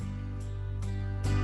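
An electronic keyboard plays its Orchestra Plus accompaniment as held orchestral chords with a steady low drone and soft accents about every 0.4 seconds, fairly quiet, with no voices.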